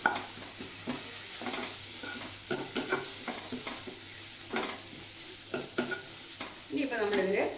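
Ginger garlic paste with spice powders sautéing on a low flame makes a constant soft sizzle, punctuated by repeated spoon scrapes and stirring knocks against the pan, with a short voice near the end.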